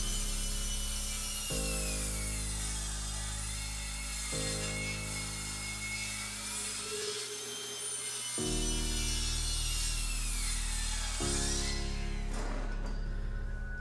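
A table saw rips a wooden wall slat lengthwise, the blade's steady hum and grinding cut running loud and close through several long passes with brief changes in pitch between them.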